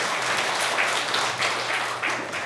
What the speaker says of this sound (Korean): 여러분들 힘찬 경려의 박수, 환영의 박수 부탁을 드리겠습니다